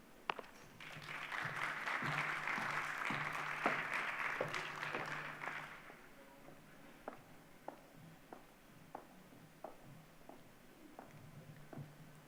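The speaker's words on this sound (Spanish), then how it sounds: "Dejo con ustedes sin más al moderador y expositor de este panel, Patrick Rinsky, a quien recibimos con un aplauso." A conference audience at a mining congress panel applauds to welcome the moderator, a dense burst of clapping for about six seconds that thins into scattered single claps and fades.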